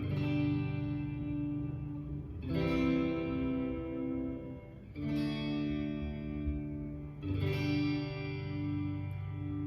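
A Harley Benton ST-70 Strat-style electric guitar on its middle pickup alone, strummed in four ringing chords about every two and a half seconds, each sustaining and decaying with a touch of effects.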